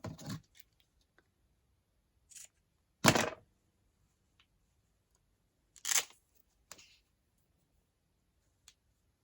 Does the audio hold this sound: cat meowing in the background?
no